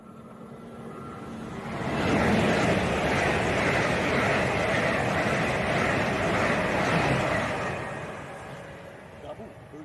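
A Class 805 passenger train running from London Euston to Holyhead passes through Rugeley Trent Valley station on the West Coast Main Line. It makes a loud, sustained roar that swells, holds for several seconds and then fades.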